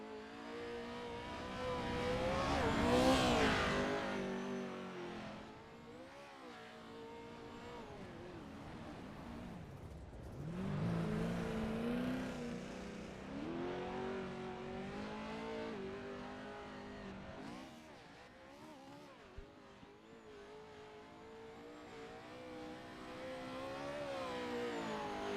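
A race car lapping Crandon's off-road track, its engine rising and falling in repeated revving sweeps as it accelerates, shifts and passes, loud at first and then receding and returning with no talk.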